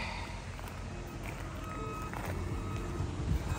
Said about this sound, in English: Tow truck is here.